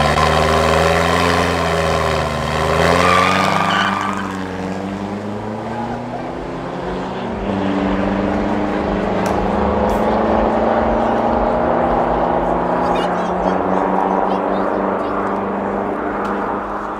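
A Volkswagen Amarok pickup races on a Johannesburg street at night, its engine droning loudly and climbing in pitch over the first few seconds, then settling into a sustained roar.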